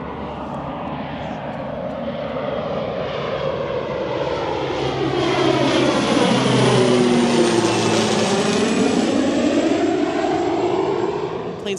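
A fixed-wing airplane passing low, almost directly overhead near an airport, its engine roar swelling loudly to a peak and then sweeping down in pitch as it moves away.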